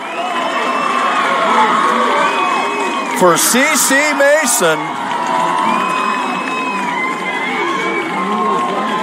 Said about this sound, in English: And you hear the Munster crowd cheering.